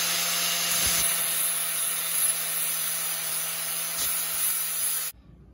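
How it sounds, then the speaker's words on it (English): A flap disc on a power grinder works over an axe head, a steady loud abrasive whir that runs unbroken for about five seconds and then cuts off abruptly. "Now I'm gonna go ahead and hit it with the flapper disc."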